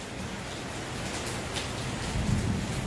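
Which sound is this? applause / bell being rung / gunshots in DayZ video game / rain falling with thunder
rain falling with thunder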